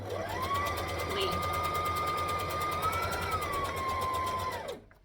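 A sewing machine stitches an elastic casing on a skirt in one long steady whirring run of rapid needle strokes, close and clear, then stops.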